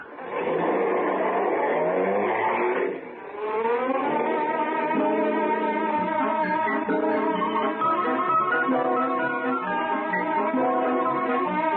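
A car engine from a radio drama sound effect, driving off and revving steadily, loud and close, with a brief dip near the start before the motor pulls away and holds its note.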